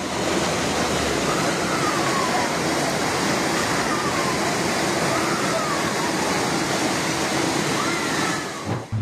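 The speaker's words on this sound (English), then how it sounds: "Heavy flooding in Ordu turned the inside of a home into something resembling a raging waterfall." Floodwater pours through the inside of a home in Ordu, Turkey, like a raging waterfall, making a loud, continuous, broadband roar that does not let up for the whole stretch.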